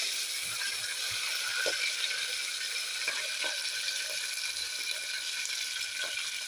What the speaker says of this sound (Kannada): ಭಾಳ ಚಟ್ಪಟ್ ಅಂತ ಸಿಡಿತೈತ್ರಿ.